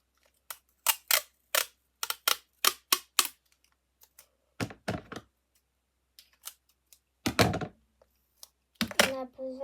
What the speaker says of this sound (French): Même si j'ai déjà mis du scotch, on remet un.